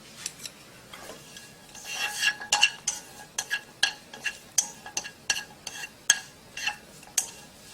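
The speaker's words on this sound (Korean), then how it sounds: "어묵에 기름 쭉 조금만 쳐주고요" Fish cake is stir-fried in a little oil, heard as a quick run of scraping, clinking utensil strokes against the pan over a faint background hiss, fairly close and with no voices.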